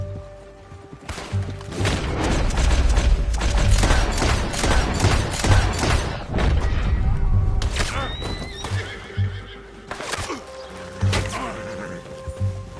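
Rapid volley of gunfire with dense overlapping shots, mixed with horses neighing and clip-clopping hooves, loud and close, with a brief whistling ricochet-like tone near the end.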